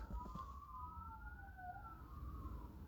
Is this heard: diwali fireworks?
no